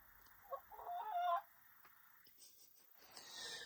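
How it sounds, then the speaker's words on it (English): A chicken clucks close by in a short burst of throaty calls, then quieter background sounds follow. "And my chicken's talking to me."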